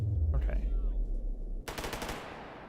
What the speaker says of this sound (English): Always fun to hear gunfire as you enter a zone.